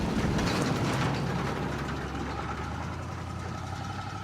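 Chevrolet Impala engine idling with a steady low rumble and a faint mechanical ticking, loudest at first and then settling into an even hum, with no one speaking.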